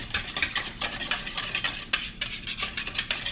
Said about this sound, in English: you're going to whisk that together really well as well